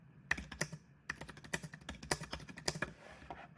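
Bursts of quick, uneven keystrokes on a computer keyboard as a name is typed into a website template editor, close and clear with short pauses between clusters of taps.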